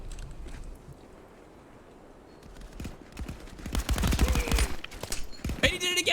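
Bursts of QBZ rifle gunfire in the VR shooter Contractors, sparse at first and then a loud rapid volley of close shots, with voices talking over parts of it.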